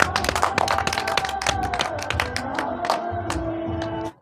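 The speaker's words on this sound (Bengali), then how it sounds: "হাততালি দাও" Children clap their hands in a quick, dense burst of close, loud claps lasting a few seconds before stopping abruptly.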